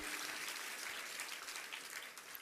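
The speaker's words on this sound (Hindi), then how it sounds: "तो ये सब लोग तालियां बजाते हैं इसलिए तो हम भी बजा देते हैं" An audience at a sermon on the ghats claps in a steady, faint patter of applause that carries on evenly throughout with no talking over it.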